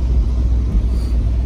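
A Mercedes SL500 with a new fuel filter drives along with its engine rumbling steadily and close, a loud low drone with no break.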